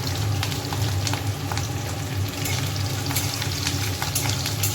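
Chili and garlic fry in hot oil with panch phoron while being stirred in a home kitchen, giving a dense, steady sizzle close up. Occasional scraping clicks from the stirring punctuate the frying.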